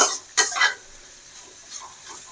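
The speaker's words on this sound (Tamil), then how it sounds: "உப்பு போட்டு நல்லா எல்லாத்தோடையும் கலந்து விடணும்" Broad beans being stirred with salt in a frying pan, a few quick scraping strokes of a spoon near the start, then a soft, faint sizzle that carries on quietly.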